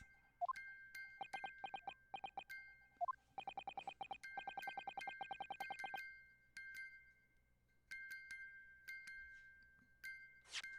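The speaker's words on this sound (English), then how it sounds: "Just what relevance do you propose this woeful chiming has on this case?" A music box in The Great Ace Attorney chimes out Morse code, with rapid runs of bright, tinkling plucked notes in irregular clusters and pauses, heard clearly with no talking.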